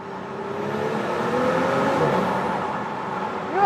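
A BMW M440i or Audi S5 accelerates through a tunnel with the window lowered on the Autobahn, its engine note swelling into a steady loud rising roar that echoes off the walls and then shifts up near the end.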